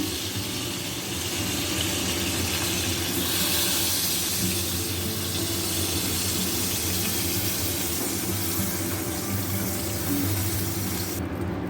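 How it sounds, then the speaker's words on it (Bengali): Kachki fish fritters wrapped in bottle gourd leaves fry in hot oil, giving a steady, dense sizzle and hiss that holds at an even level from start to finish with no voices. "এইভাবে আমি সবগুলো ভেজে নেব"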